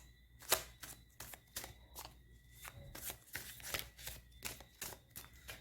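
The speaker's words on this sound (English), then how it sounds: "I'm shuffling this deck for you now to see what card comes up." A tarot deck is shuffled repeatedly, crisp riffling bursts and taps in an uneven rhythm, close and fairly loud, with no talking.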